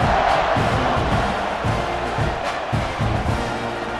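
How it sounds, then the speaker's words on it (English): A stadium crowd buzzes in an NCAA 26 football video game, Florida Gators versus Texas A&M, just after a touchdown. The noise is a steady, dense murmur with faint cheering swells throughout. "this crowd is buzzing after that last score"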